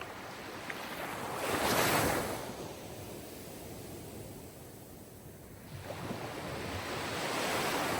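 Sea surf rolling in steady washes, one wave swelling and breaking loud near the start and another building toward the end, with a soft hiss of water and faint wind between them, no voices.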